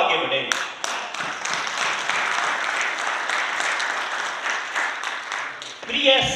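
Audience applause fills a hall at a Kangen Water distributor event, a dense, steady clapping from a crowd lasting several seconds before trailing off, with a voice briefly heard at the end.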